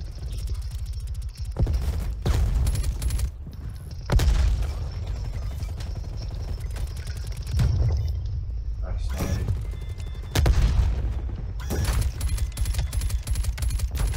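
KSP 45 submachine gun firing in the video game Black Ops Cold War: repeated loud close bursts of rapid shots separated by short pauses, with a voice speaking over parts of the action.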